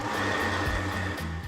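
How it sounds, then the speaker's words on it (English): A blender purees chilled gazpacho soup, giving a loud, steady whirring motor drone with a low hum that runs unbroken throughout, with no voices. "Time to blend the soup."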